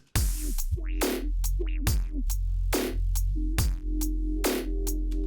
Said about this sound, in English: you can hear that distortion peek through with this sound now that we've pushed it up 20 dB